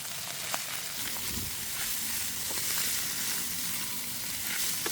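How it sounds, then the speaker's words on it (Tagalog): Shredded chicken sautéing with ginger and scallions in a pan for chicken pastil, a dense, steady close-up sizzle and crackle with occasional stirring scrapes and no voices. "Saka ilagay itong shredded chicken. Igisa lang natin ito saglit para mas flavorful."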